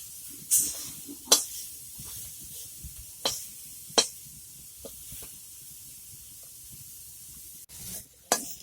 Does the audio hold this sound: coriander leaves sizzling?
yes